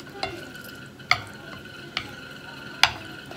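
Ramen noodles being mixed with sauce for a chopstick challenge, heard close and quiet. There are four sharp clicks of utensils against the bowl over a faint wet, sizzling background.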